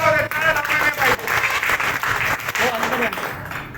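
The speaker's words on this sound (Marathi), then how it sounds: "सगळ्यांनी 2 मिनिटं टाळ्या वाजवाव्यात." A crowd gives steady, sustained applause at the opening of an Oscar Wadi Misal restaurant branch in Sambhajinagar, and voices can be heard through the clapping.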